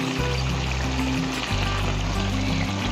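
Water poured steadily into a cooking pot of desi beans, a continuous close gushing and trickling stream that changes pitch as the level rises.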